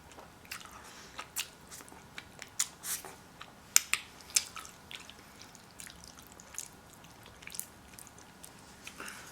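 Close-up eating of thick, extra-long spaghetti noodles, with soft wet slurps, squishes and sharp smacking clicks arriving irregularly over a quiet background, fairly faint overall and no talking.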